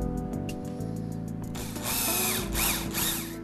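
A power drill drives 3.5 x 50 mm screws into door hinges while an interior door is fitted into a block wall, with whirring bursts that rise and fall in pitch, close and loud.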